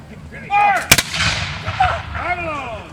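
A sharp musket shot cracks out loud and close at a historical war reenactment in Canada, with shouting voices rising before and after the blast and calls carrying over the field.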